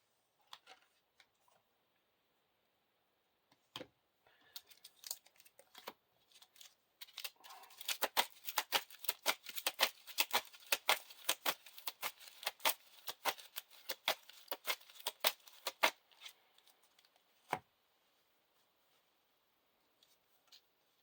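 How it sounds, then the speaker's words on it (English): Playing cards for a Lord of the Rings living card game are shuffled close by, starting with scattered clicks and building into dense, rapid riffling bursts before tapering to a few final taps. "Shuffle the encounter discard pile into the encounter deck"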